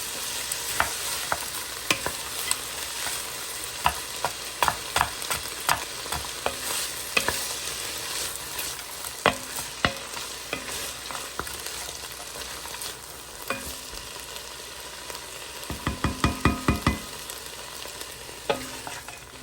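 Frozen green beans sautéing in a pan with a splash of water, a steady soft sizzle broken by frequent clacking stirs and scrapes of a utensil, with a burst of rapid stirring near the end.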